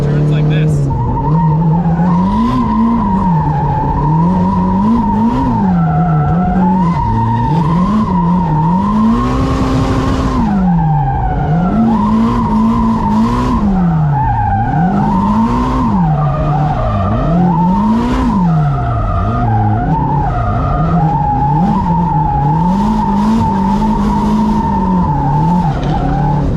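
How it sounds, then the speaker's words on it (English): A Nissan Skyline R34 GTR skids through a handbrake turn, its tyres squealing in long wavering wails over a loud, steady engine roar, heard from inside the car with the windows down. "So the handbrake is for turns like this."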